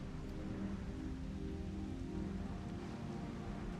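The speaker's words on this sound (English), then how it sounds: "It might be because it's raining constantly." Rain falls constantly in the FFXIV: Dawntrail video game, a soft, even hiss of downpour with no breaks, heard alone at low volume.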